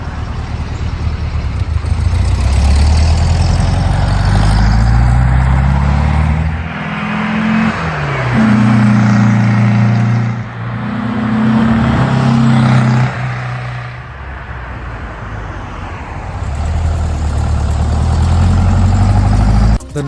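A Porsche 356 Speedster with its 75 horsepower engine in Need for Speed Porsche Unleashed, loud and close throughout, revving up and down through gear changes with steady rising and falling pitch and no talk.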